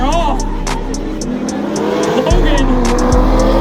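Drift race cars roar through a corner at a drift competition at Ozark International Raceway, engines loud and close with shifting revs and squealing tires, while a commentator talks over the noise.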